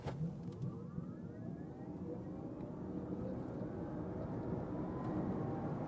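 An Audi SQ8 e-tron 55 electric SUV accelerating from 0 to 100 km/h, a continuous rising motor whine over heavy rumbling road and wind noise, loud and sustained throughout.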